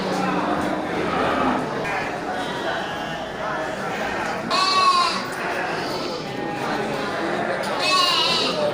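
Goats and sheep bleat at a busy outdoor livestock market in Indonesia, several wavering cries rising over constant crowd chatter and someone talking nearby.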